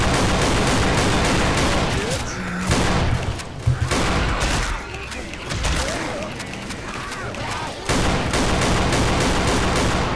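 Rapid automatic gunfire from shooting in Left 4 Dead 2 comes in dense bursts, loud and close. It thins to scattered shots partway through, then surges again near the end.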